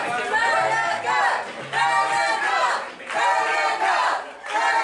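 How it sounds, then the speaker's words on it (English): A wrestling crowd at a Riot Pro Wrestling #1 contendership tag match roars in loud, rolling waves of shouting and chanting. The noise swells and dips rhythmically over about five seconds. "Crowd is hyped up."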